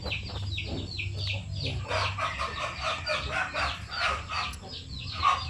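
Shamo aseel chickens cluck repeatedly close by in a farm setting, with overlapping calls from several birds and a steady low background hum.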